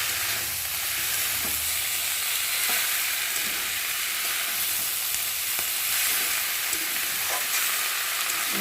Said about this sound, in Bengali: আর এখন আমি একটু নেড়ে চেড়ে সেদ্ধ করে রাখা মোচাটাকে মশলার সাথে দিয়ে একটু ভালো করে কষিয়ে নেব